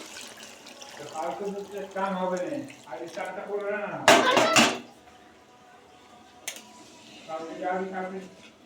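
Hot water splashes into a pot of cooking chicken in one brief, loud gush, with someone talking before and after it.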